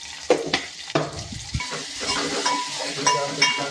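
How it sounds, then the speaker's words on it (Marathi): Chopped green chillies sizzle in a pan for kadhi while a spoon stirs them, with sharp scrapes and knocks against the metal over a soft, steady frying hiss. "त्यानंतर टाकू बारीक कापलेले मिरची आणि त्याला थोडंसं हलवून घेऊ"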